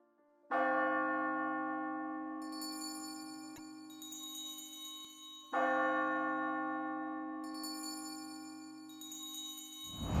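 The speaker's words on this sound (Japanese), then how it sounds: "最初に映画配給会社の場面に鐘の音が数回鳴らし始めます" A large bell tolls twice, each deep ringing strike followed by a long, slowly fading hum, with no voices.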